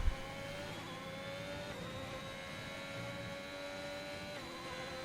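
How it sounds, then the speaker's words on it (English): F1 car engine in a racing video game, a steady high-pitched whining drone with gently shifting pitch, moderately faint and continuous, no voices. "we've got an engine that actually sounds very normal"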